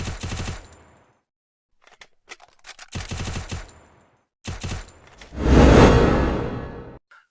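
Rapid bursts of automatic weapon fire in the Free Fire video game, several rattling volleys separated by short gaps, ending in a loud rushing whoosh.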